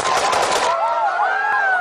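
Celebratory gunfire at a wedding in Yemen: a dense burst of rapid shots fills the first half, then fades into a whistling, wavering tone that lingers to the end.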